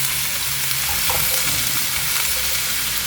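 Vegetables for pancit guisado sizzle and crackle loudly in a hot pan while being stir-fried, a continuous close frying hiss with faint clinks and scrapes of stirring.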